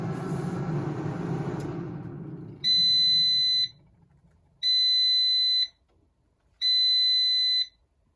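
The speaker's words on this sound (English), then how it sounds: "when it finishes cooking, it's gonna beep and stop the cooking process automatically" A Cosori Air Fryer Max XL's whirring fan winds down as cooking finishes, then three long, steady electronic beeps sound at even intervals, loud and clear against near silence.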